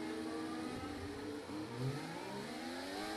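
A Formula 1 car's high-revving engine whines steadily during practice at the 2024 Abu Dhabi Grand Prix, pitch rising and falling as it accelerates up to about 9,500 rpm, heard continuously from close by with no voices.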